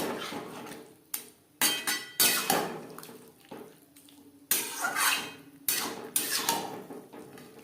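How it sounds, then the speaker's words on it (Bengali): Vegetarian cabbage curry stirred in a pan over a high gas flame: bursts of metal clatter and scraping in uneven strokes, separated by brief quieter gaps. "হাই ফ্লেমে 3-4 মিনিট নাড়াচাড়া করে দেব"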